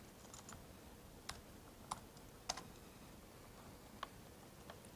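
Sparse keystrokes on a computer keyboard while a command is entered at a terminal, a handful of faint, separate clicks spaced irregularly over a quiet background hiss.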